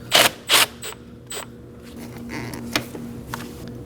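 A ratchet with a 10mm socket loosens a hose clamp while replacing the intake manifold on a 2011-2016 Kia Optima: a few sharp, close clicking bursts, then softer intermittent ticks over a faint hum.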